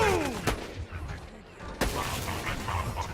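Gunfire in the Borderlands 2 video game: two sharp, loud blasts about a second apart amid a busy wash of game noise and effects, with no one talking.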